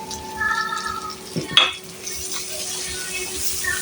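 Green chillies fry in a pan for restaurant-style chilli chicken, with a soft sizzle, a few clinks and scrapes of stirring, and a sharp metallic tap midway, with no one talking.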